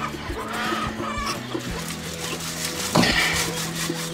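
Hens clucking near a wooden coop while pecking at feed, with repeated soft clucks and a brief louder squawk, plus wooden rubbing and scratching close by.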